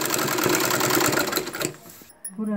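Electric sewing machine stitching a seam on a homemade nightgown, a steady loud whirring run for about two seconds that stops abruptly, followed by a few brief clicks and a short restart.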